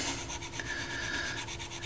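Wet cleaner rubbed back and forth on the relay contacts of a Pioneer PL-117D turntable under repair, a soft, close, continuous scrubbing rasp lasting a couple of seconds.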